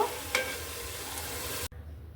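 Eggs frying with spices in a pan for egg biryani, a steady close sizzle with a brief stirring scrape, then cutting off abruptly into quieter room sound.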